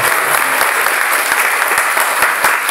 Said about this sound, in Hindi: ताली बजाइए, हाथों की रेखा अपने आप बदल जाएगी।